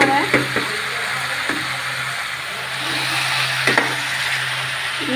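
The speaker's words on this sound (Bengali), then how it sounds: "লতিগুলো একটু ভাজা হয়ে আসছে" Taro stolons (kochur loti) frying in a pan give a steady broadband sizzle, broken by a few sharp clicks and scrapes of stirring, close and moderately loud with no talk.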